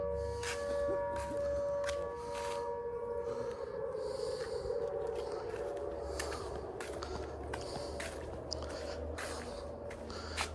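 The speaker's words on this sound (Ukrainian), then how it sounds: "Опять, короче, сирена." A long, wavering air raid siren drones in the distance, sliding slowly in pitch, with scattered nearby clicks and rustles over it.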